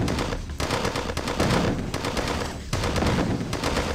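Sustained gunfire from defense towers in Command & Conquer: Tiberian Sun, a dense, continuous rattle of rapid shots with small dips in intensity, loud and up close with no talk.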